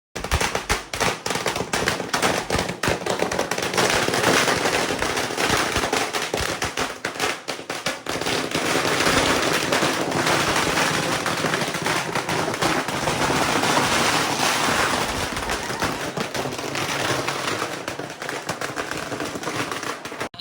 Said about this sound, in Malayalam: വെടി പൊട്ടിക്കാൻ പോകണേ